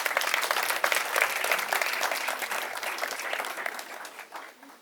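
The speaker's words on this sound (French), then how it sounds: "Est-ce qu'on peut applaudir, s'il vous plaît?" Guests at a traditional Gabonese wedding ceremony clap in a lively, close round of applause with sharp individual hand claps, steady at first and then fading out.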